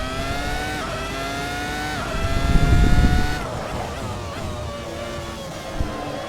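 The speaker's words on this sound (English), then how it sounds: "with a V10 that's revving to insane speeds, making one hell of a noise as it does it" A V10 race car in the Assetto Corsa racing game revs hard on track, a loud sustained engine whine with rising and falling pitch as gears shift, swelling briefly in the middle.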